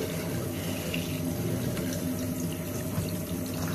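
A tap runs steadily into a sink as water is drawn to wash a face, a continuous close splashing hiss that holds without pause and has no talk over it.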